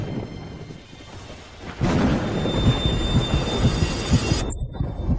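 A thunder sound effect in a period drama: a deep, rolling rumble with throbbing pulses swells in after a quieter start, sustains for a few seconds, then cuts off briefly near the end.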